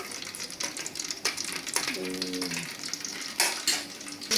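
Fenugreek seeds frying in hot oil, a soft, steady sizzle with scattered crackles and spoon-stirring clinks, close and fairly quiet.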